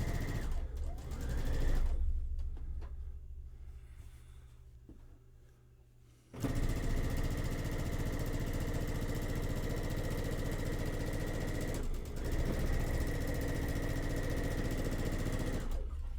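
A sewing machine stitches fabric with a close, steady motor hum that drops to a quieter whir for a few seconds and then runs on evenly, with one short break near the end.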